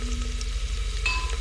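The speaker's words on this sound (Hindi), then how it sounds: "तो मैं लाइट ब्राउन कर लेती हूँ इन प्याज़ों को।" Onions browning in a pan with ginger garlic paste added, a steady low sizzle and crackle of frying throughout, with a faint brief higher tone near the end.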